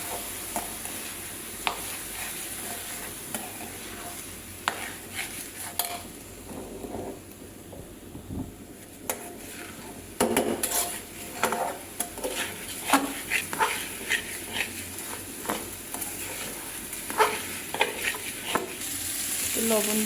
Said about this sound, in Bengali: পোলাও চালটা ভালো করে ভেজে নিব।